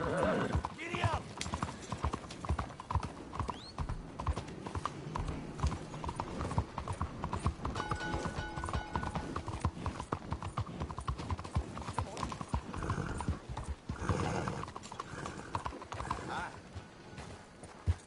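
Rhythmic hooves clip-clop steadily under a galloping horse in the video game Red Dead Redemption 2, with an occasional whinny and a voice talking over the constant beat of the hooves.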